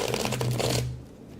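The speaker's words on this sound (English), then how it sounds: "I'm just going to do a riffle shuffle on my desk" A riffle shuffle of fairly fresh playing cards on a desk gives a quick, close, crisp fluttering burst lasting under a second, then quiet.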